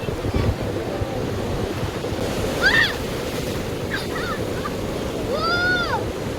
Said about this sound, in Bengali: ঢেউ আসছে কিন্তু প্রচুর প্রচুর এই সামনে ঢেউ আসবে